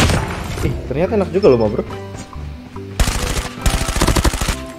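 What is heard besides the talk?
gunfire in Call of Duty Mobile, a video game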